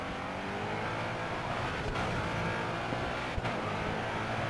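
Racing car engines drone steadily in the Grid Autosport video game, a dense continuous roar with overlapping motors and brief whooshes as cars pass close by.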